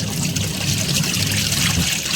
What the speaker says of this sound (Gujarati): ખરાબ પાણી કાઢીને ડાયરેક્ટ સ્પિનમાં નાખી દઈએ